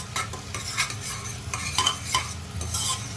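Onion is stirred and fried in a pan, a spatula scraping and clinking repeatedly over a steady sizzle, close by and uneven in rhythm, with no talk.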